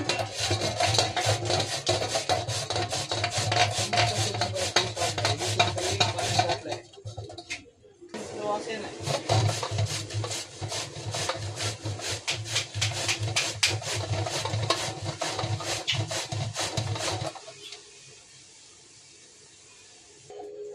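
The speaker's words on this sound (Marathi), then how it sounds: "आता आपण ह्या दुधीला खिसून घेऊया, धुवून स्वच्छ।" Bottle gourd being grated by hand on a grater in a home kitchen, a steady dense rasping scrape repeated in quick strokes, pausing briefly mid-way, then stopping near the end.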